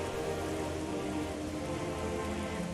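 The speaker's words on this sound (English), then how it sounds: "it just has that generic rain droplets hitting a surface kind of thing" Generic rain droplets pattering steadily on a surface in the video game Metroid Prime Remastered, a dense, even hiss that fills the whole stretch without any voices.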